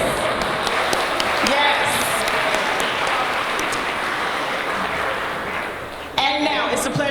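An audience at a jazz hall of fame induction ceremony applauds in a sustained, dense wash of clapping, fading slightly before a short spoken word over renewed clapping at the end.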